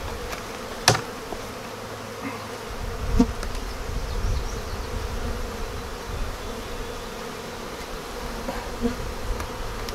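Honeybees drone and buzz steadily around an opened beekeeping hive during an inspection, a continuous insect hum with a few louder bees passing close and some light handling knocks.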